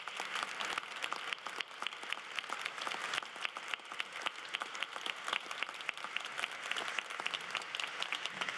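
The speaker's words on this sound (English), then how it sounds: "give them a round of applause as they come up" A crowd applauds steadily for several seconds, dense clapping spread evenly across the room at moderate volume.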